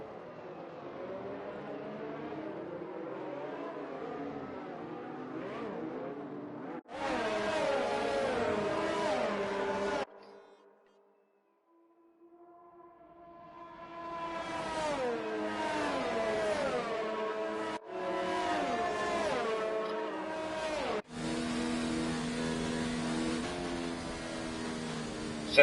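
Race cars pulling away on the formation lap in an F2 racing video game at Belgium, sustained engine whine rising and shifting in pitch through gears, loud and continuous with a brief dip to near silence midway, no talk.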